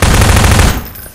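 Pulse rifle fire in Garry's Mod: a loud, rapid burst of automatic shots close up, stopping abruptly after under a second and leaving a fading tail.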